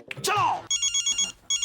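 A telephone rings in short, bright electronic bursts, a rapid repeating trill that starts after a brief spoken exclamation and pauses before resuming.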